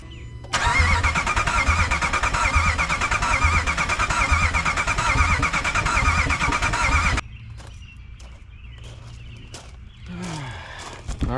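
A Ram 1500 truck engine cranks loudly and steadily for several seconds, then stops abruptly, followed by quieter clicks and a brief attempt to catch near the end.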